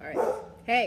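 A pet dog gives a short, loud bark near the end, close to the microphone, while someone speaks briefly just before it.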